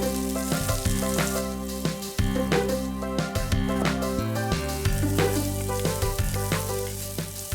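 Garlic and onion sautéing in a pan as the base for a homestyle soup or stew, a steady close sizzle with occasional stirring, heard alongside sustained tonal background music.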